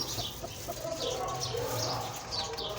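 A hen clucks softly in a coop with straw bedding, short low murmurs and a few higher chirps scattered over a quiet background, fairly close but faint.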